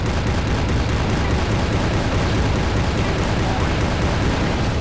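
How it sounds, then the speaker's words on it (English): Cannon shots fired by a mini-boss in the PSP game SpongeBob Truth or Square, a dense, loud and constant wall of booming blasts and noise with no pauses and no voices. "Those cannon shots are RNG"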